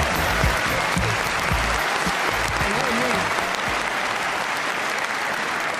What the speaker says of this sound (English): One of you was clapping out of time.